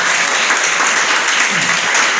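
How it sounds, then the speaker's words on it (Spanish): Congregation applause at an Easter and Lord's Supper church service, a dense, loud, steady wash of many hands clapping that continues evenly throughout with no pauses. "Denle un aplauso al Señor."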